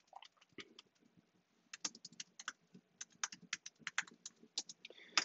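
A curl command is typed on a computer keyboard in quick, irregular bursts of crisp, close clicks, with a short pause partway through before a faster run of keystrokes, in a quiet room without talking.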